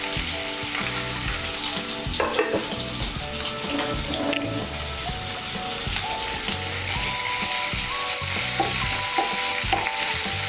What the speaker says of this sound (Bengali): পেঁয়াজ কুচিটাকে আমি লাল করে ভেজে নেব।